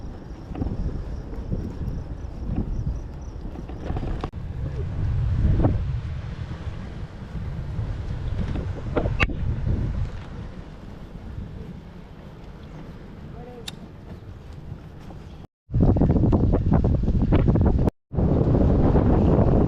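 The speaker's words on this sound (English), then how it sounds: "we still have to pedal because we got a heck of a headwind today" A strong headwind buffets the microphone of a cyclist riding downhill on a cross-Canada tour. The rumble is loud and continuous, eases off partway through and then returns in a heavy roar near the end.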